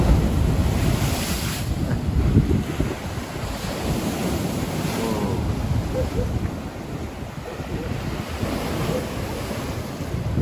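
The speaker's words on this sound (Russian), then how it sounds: "Так, море, нам нужна большая волна." Steady roar of stormy Black Sea surf at Yalta, Crimea at night, with waves crashing and churning under gusty wind, loud and continuous throughout.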